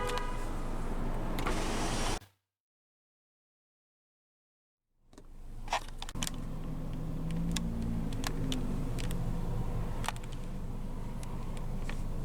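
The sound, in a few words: 2014 Subaru Forester driver's power window rolling down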